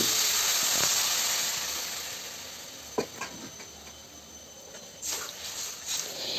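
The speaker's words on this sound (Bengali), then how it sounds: "এখন আমি জল দিয়ে দিচ্ছি" Water poured into a hot pan of vegetables for soup, setting off a loud steamy hiss that fades over a few seconds, followed by scattered clinks and scrapes of the pan, close and without talk.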